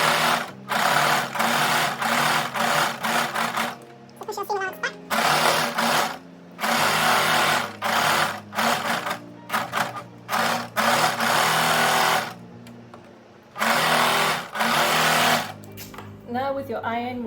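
Home sewing machine running a zigzag stitch along the edges of summer dress fabric to stop fraying, in repeated bursts of steady whirring with short pauses between them, close and loud, with a voice speaking at times.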